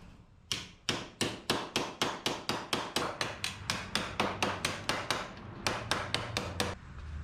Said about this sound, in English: I'm gonna just hammer on what I can here or there